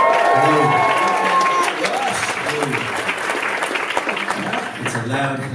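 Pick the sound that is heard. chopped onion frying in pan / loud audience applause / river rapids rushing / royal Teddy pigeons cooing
loud audience applause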